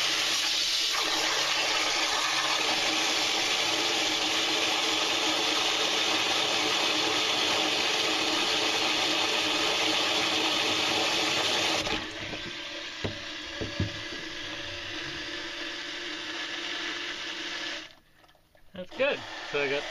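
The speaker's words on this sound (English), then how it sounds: "I got two automatic bilge pumps and a manual bilge pump pulling water out of the bilge now" A Rulemate 750 automatic bilge pump on a boat pushes out water with a steady loud rushing flow that cuts off about two thirds through, leaving quieter knocks and handling noises; someone talks now and then.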